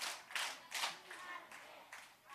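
Children in a church Sunday school class clap three times in unison, crisp and evenly spaced about half a second apart, moderately faint in a reverberant room, with light murmuring after.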